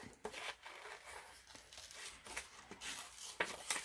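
Scissors snip through fabric while fussy cutting blackberry and leaf motifs, a quiet run of short crisp cuts and rustles with uneven pauses between them, close and soft.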